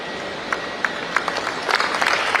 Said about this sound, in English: Big smiles and bigger round of applause, ladies and gentlemen